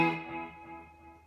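An electric guitar note played through an iRig UA interface with a delay effect rings out with repeating echoes that trail off and decay over a second or so, heard alone.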